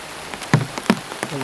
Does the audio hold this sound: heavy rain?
yes